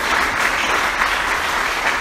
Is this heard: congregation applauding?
yes